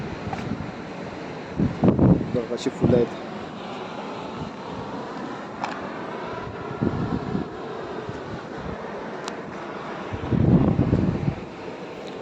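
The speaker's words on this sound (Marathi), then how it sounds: "कसा त्या लाटांचा आवाज" Sea waves on the Devgad coast roll in with soft, low surges at intervals, mixed with steady wind buffeting the microphone. A person speaks briefly.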